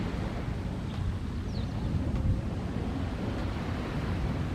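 Ocean waves at a seaside park in Japan on an autumn morning: a continuous low wash of surf mixed with wind buffeting the microphone, fairly faint and steady, with no talking.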